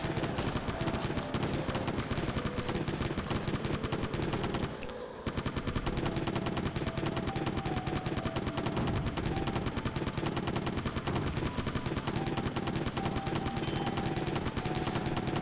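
Continuous automatic gunfire from a weapon in a Switch video game, a dense rapid rattle running nearly unbroken for the whole stretch, with one brief dip partway through.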